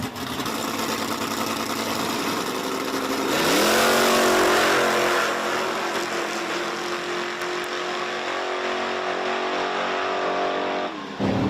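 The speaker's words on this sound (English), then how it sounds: "Going up against another hatchback Mustang here in the left." Hatchback Mustang drag cars launching side by side down the strip at Virginia Motorsports Park, a loud continuous engine roar that surges and climbs through the run, then drops away at the end.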